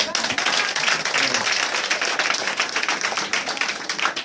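A church congregation claps and applauds vigorously in dense, sustained applause for several seconds, the crowd's clapping filling the room evenly throughout.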